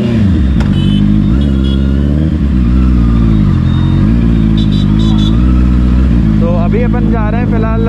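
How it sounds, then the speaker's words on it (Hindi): A motorcycle starts up at a petrol pump in Kolar and rides off, its engine running loud and steady with revving throughout, while someone talks over it and higher tonal sounds rise near the end. "और अब बाइक स्टार्ट करते हैं।"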